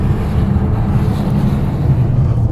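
A Polestar 2 electric car accelerates hard on snow in arctic conditions, heard as a dense low rumble of tyres and wind buffeting, loud and continuous without voices.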